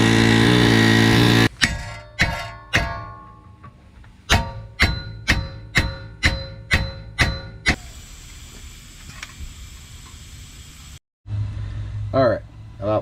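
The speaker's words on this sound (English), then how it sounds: "gonna hook this up to the air chisel and see if we can't separate those two and break them apart" An air chisel drives a pickle fork into the suspension of a Chevy Traverse or GMC Acadia. Loud pneumatic hammering comes in short repeated bursts, then one long sustained run and another burst at the end.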